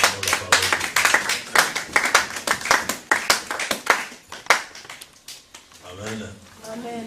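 A church congregation at a Sunday service claps in acclamation, a dense run of sharp, rhythmic hand claps filling most of the stretch, with a voice rising over it near the end as the clapping fades.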